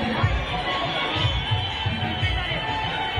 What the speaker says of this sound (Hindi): शिव जी का बारात आ चुका है भीड़ तो अभी देखिएगा बहुत भीड़